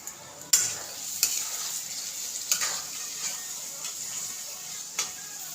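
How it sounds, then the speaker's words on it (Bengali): Fish curry with potatoes sizzles in a pan as it is stirred, a steady frying hiss broken by several sharp scraping clicks spaced a second or so apart, close and moderately loud. "তো এখানে মাছের ঝোলে কষা হচ্ছে আলু টালু দিয়ে।"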